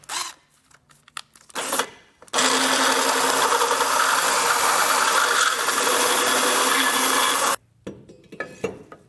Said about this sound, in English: enlarge that hole a little bit with a grinding bit